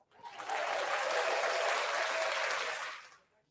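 An applause sound effect plays from a phone, a few seconds of dense clapping and cheering that swell quickly and then cut off.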